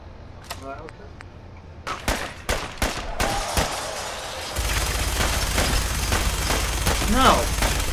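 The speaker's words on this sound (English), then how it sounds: "Okay, let's go minigun." A minigun firing in Fallout 4: a few separate sharp shots, then a sustained, loud rapid stream of fire with a steady low roar underneath, and speech in the background.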